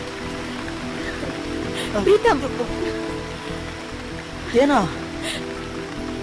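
Steady rain falls through a romantic scene in a Kannada film, a constant wash beneath spoken dialogue and a few brief louder swells.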